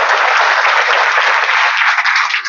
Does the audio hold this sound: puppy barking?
no